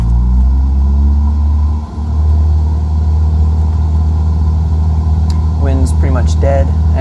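A Cessna 172 engine runs at full throttle in Microsoft Flight Simulator 2020, a loud, steady low drone with a brief dip early on. A voice briefly rises over it near the end.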